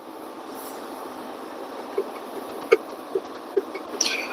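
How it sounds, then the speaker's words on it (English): Steady low drone inside the cab of a 2023 Freightliner Cascadia truck with about 238,000 miles, cruising on the highway, with a few light clicks and rattles over the constant road noise. "I'm driving a Freightliner, Cascadia"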